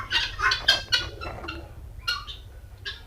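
Hens cluck and call in a poultry-farm shed, with several short bursts close to the listener over a low background hum.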